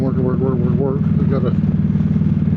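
Motorcycle ride along a tree-lined road, with a steady engine drone and wind rumble close by while a voice talks over the first part.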